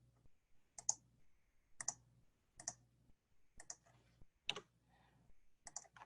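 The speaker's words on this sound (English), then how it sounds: "I'm just going to right click on that and fix that." Quiet, sharp computer mouse right-clicks, about six separate clicks spaced roughly a second apart in a still room.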